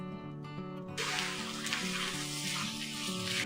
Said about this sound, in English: we will cover the lid and allow it to simmer for 2 minutes